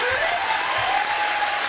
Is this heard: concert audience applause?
yes